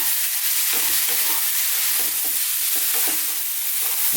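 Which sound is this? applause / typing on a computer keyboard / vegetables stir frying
vegetables stir frying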